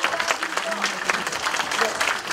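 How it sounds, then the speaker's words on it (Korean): An audience claps after a lecture, continuous applause from a crowd that stays fairly even and moderately loud throughout. "강연 열렬한 박수로 감사 말씀드리겠습니다"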